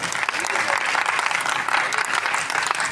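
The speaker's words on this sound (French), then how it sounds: "On applaudit le public, s'il vous plaît" Steady applause from a festival audience on the second evening of the Tuseo festival, dense and continuous for a few seconds with some voices faintly mixed in.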